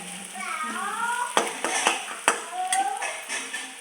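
Tomatoes frying in a pan while being stirred, soft sizzling with several sharp scraping knocks of a spoon against the pan, close and fairly quiet, with a tonal ringing hum running underneath.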